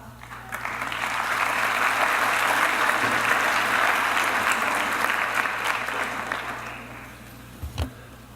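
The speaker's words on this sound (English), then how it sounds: "I find it pretty great how everyone's already clapped for me" A large graduation audience at a Mohawk College diploma ceremony claps steadily for several seconds, swelling and then fading out, with a few scattered louder claps near the end.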